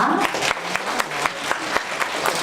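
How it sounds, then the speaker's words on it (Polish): An audience at a preschool singing contest applauds a jury member being introduced, steady clapping with distinct individual claps sounding at a quick, fairly regular rhythm. "Wielkie brawa."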